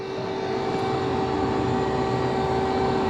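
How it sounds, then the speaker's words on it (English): An air raid siren wails outdoors in Dnipro, Ukraine, holding a steady droning pitch at a distance, continuous and fairly loud with no voices. "Oh yeah, and there's the air raid siren there now."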